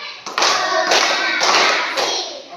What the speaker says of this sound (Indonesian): Kita terlebih dahulu tepuk konsentrasi.